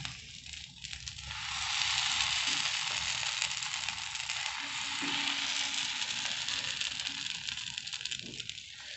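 Moong dal dosa batter sizzling as it is spread in circles across a large hot pan, a steady close hiss with faint scraping swells, no voices.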